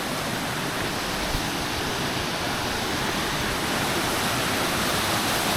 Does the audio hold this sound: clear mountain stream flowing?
yes